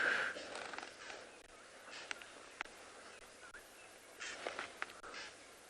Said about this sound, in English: can hear lots of birds around at the moment